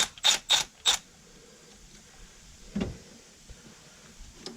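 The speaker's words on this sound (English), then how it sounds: "We're going to take a 12 millimeter and loosen the bolts here that hold the throttle" A ratchet with a 12 mm socket loosens bolts on a Toyota engine, giving four quick, sharp clicking bursts up close, then a soft metallic clunk against quiet shop background.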